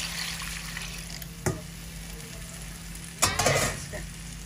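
Shrimp curry with spinach and potato sizzling steadily in a pan, with two brief louder bursts as water goes in and the frying flares up, plus light clinks of a stirring utensil.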